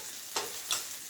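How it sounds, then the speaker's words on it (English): Two short bursts of onions sizzling and being stirred in a frying pan, faint against a quiet background hiss. "it doesn't take that long for onions to fry up."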